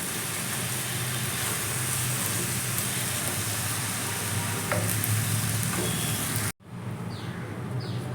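Snake gourd rice is stirred and mixed in a hot pan, giving a steady sizzling, scraping hiss throughout, with one brief sharp cutoff and a few faint clinks near the end.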